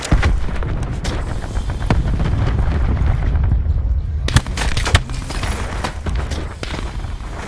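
Cluster grenade blasts in Call of Duty Black Ops 4 pop and crackle in a rapid, dense string over a rumbling low roar, with a sharper burst of close explosions near the middle.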